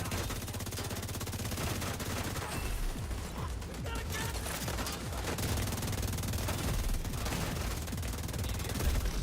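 Rapid automatic gunfire with clicking, mechanical rattles in The Division 2, golden bullet rounds mixed into dense continuous combat noise, loud throughout with a faint voice underneath.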